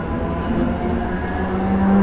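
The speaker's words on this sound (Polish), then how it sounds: "A to jest pociąg z Kłonia do Warszawy Wschodniej" An EW60 electric passenger train of Koleje Mazowieckie passes at Warszawa Włochy with a loud, steady rolling roar and humming motor tones throughout, no voices.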